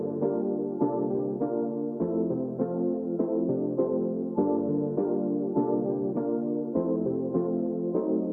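A mellow, chill synth patch modeled on a song plays soft sustained chords that change every second or so, warm and steady at moderate volume, with no voices.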